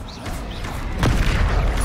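A combat spell is cast in the Hogwarts Legacy video game: a sharp magical burst lands at about the midpoint, over a low rumbling, mechanical game soundscape.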